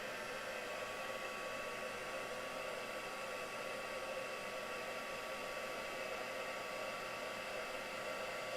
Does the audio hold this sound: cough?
no